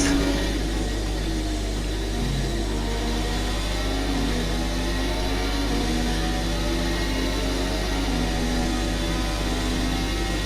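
Racing car engine in F1 2017 during the Bahrain race, a steady loud drone with layered harmonic whine held throughout, no voices.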